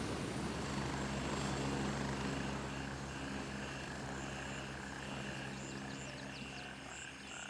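Helicopter in the military shooter game Gray Zone Warfare, a continuous droning rotor and engine hum at moderate distance, fairly quiet and fading slightly toward the end, with no talk.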